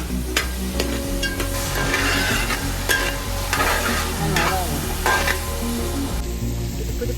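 Chicken dry fry with coconut paste stirred in a pan, a loud continuous sizzle with repeated scraping strokes of the spoon against the pan, close and without talk.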